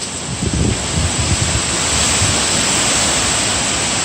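Strong wind gusts from Hurricane Irma roar loudly and steadily against the microphone, with heavy buffeting that builds over a few seconds and no talking.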